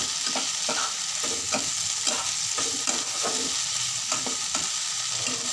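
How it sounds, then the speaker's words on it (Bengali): A spoon stirs a tomato and beans sabji in a hot pan after sugar is added, making rhythmic scraping strokes about twice a second over a constant nearby sizzle. "এবার হাফ টিস্পুনের মতো চিনি দিয়ে ভালোভাবে মিশিয়ে নেব"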